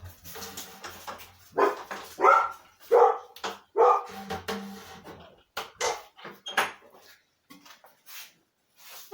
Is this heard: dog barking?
yes